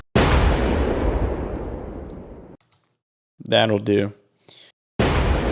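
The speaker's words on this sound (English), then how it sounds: "I basically just want to take an explosion and put that into shimmer" A big explosion sound effect fed through shimmer reverb blooms into a long washing tail that fades out, a voice speaks briefly, then another processed blast bursts in.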